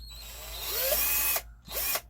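A small power drill with a tiny bit whines briefly in two short bursts, drilling a small hole at a stud mark, the second burst after a quick pause, close by with no talking.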